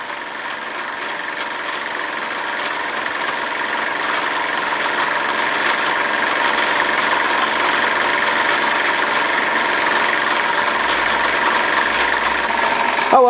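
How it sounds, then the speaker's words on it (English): Steady mechanical running of an Aero 17-inch windmill converted to be driven by a Bowman M101 steam engine, a continuous whirring drone with a faint rhythmic knock that builds slightly in loudness and runs alone. "That's the Aero 17-inch windmill converted to run from a steam engine, being driven in this case by the Bowman M101."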